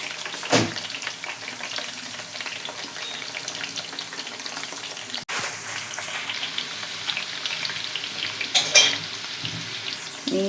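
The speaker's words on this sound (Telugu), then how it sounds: "నీట్గా గోల్డెన్ బ్రౌన్ కలర్ వచ్చేంత వరకు మగ్గించుకోవాలి." Gooseberries frying in a pan for usirikai pachadi, a soft steady sizzle with occasional sharper spatters and stirring clinks, fairly quiet and close, no talk.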